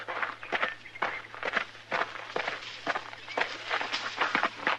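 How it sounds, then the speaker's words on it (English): Rustling footsteps crunch through dry brush at a steady, irregular pace, close by, with a low hum underneath. "Somebody sneaking through the brush."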